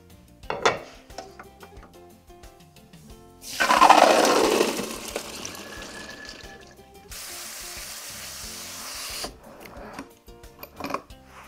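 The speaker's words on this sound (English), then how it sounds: "I'm gonna go rinse and drain them." Tap water runs loudly into a kitchen sink as soaked pinto beans are rinsed and drained, with clattering of a pot or colander before and after two separate bursts of flowing water.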